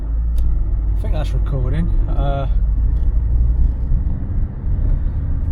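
A car travels along the road, heard from inside the cabin as a steady low rumble throughout, with someone speaking briefly over it.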